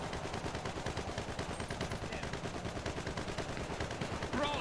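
Rapid, continuous gunfire rattles steadily through a GTA roleplay oil rig heist, dense and even throughout, with faint voices underneath.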